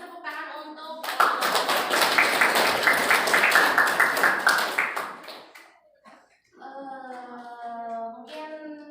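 An audience in a classroom guidance session bursts into clapping for about four seconds, dense and fairly close. It fades out and is followed by a short pause, with a speaking voice before and after.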